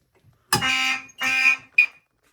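Fire alarm horns blare during a panel walk test, two sustained loud blasts followed by a short third burst, close and alone before dropping to silence.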